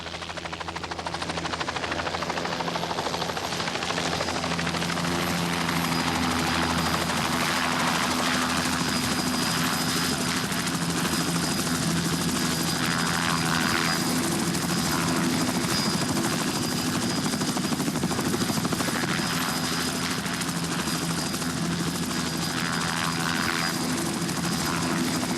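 Top-dressing aircraft drone overhead with a steady, rumbling engine and propeller roar that stays loud and even throughout, with no talk.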